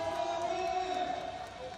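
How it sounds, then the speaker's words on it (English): A Japanese crowd at a BMX freestyle park World Cup event in Sakai cheers loudly in a sustained roar with rising whoops, heard from within the venue under an announcer's voice. "And the Japanese crowd is going wild for their homeboy."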